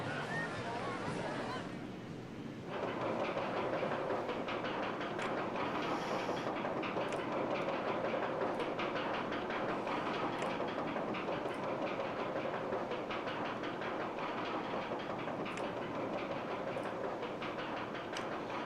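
OpenRCT2 roller coaster train running steadily on its track, a continuous loud rattling clatter that holds for the whole stretch after a brief quieter opening.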